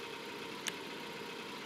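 A BF Weevil car fitted with an upswept center exhaust idles in GTA 5, giving a low, steady engine hum with a brief click partway through and no talk.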